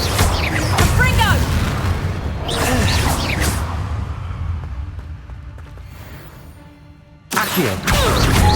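Repeated spell blasts from Hogwarts Legacy, the fiery Confringo curse, erupt as loud booms and whooshing bursts in a busy game fight, several in quick succession with a brief lull before a final sharp blast.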